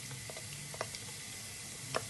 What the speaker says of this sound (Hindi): ये फ्राई हो जाए, इसकी स्मेल अच्छे से आने लग जाए